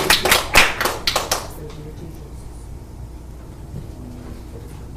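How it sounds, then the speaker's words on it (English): Church congregation at a Pentecostal Holiness Sunday service claps in a quick burst of loud sharp handclaps for just over a second, then the room falls into a quiet murmur with faint background sound. "Give the Lord a hand clap of praise for Brother Tom"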